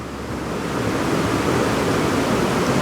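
A waterfall in a forest roars as a steady, dense rush of water. It is loud and close, with broadband noise that swells slightly and holds for the whole stretch, and no voices.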